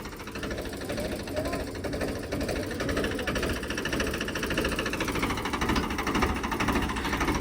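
A new potato digging machine runs steadily in a field, its engine giving a continuous mid-pitched rattling drone with faint clatter, fairly close and unchanging throughout.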